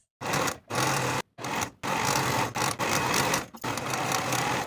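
Sewing machine finishing the raw shoulder-seam edges of a satin tie-front blouse: steady, loud machine whir in several runs, broken by short pauses, with no voices.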